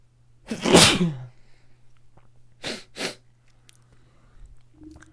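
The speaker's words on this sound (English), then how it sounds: "I had to sneeze there" A single loud, close sneeze bursts out near the start, followed by two quick fainter sniffs or exhalations, then near silence with a low steady hum.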